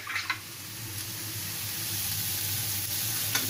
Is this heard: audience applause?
no